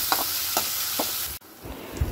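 Onion fries in hot oil for a tadka, sizzling steadily while a spoon scrapes through the pan in regular strokes, then a brief pause before the frying resumes.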